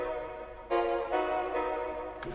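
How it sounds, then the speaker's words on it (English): Synth pluck chords from a Spire preset, low end cut away by EQ, play as a few bright, dense chord stabs in a steady pattern, moderately loud with no voices. "It's plug chords that I'm getting from a plugin called Spire."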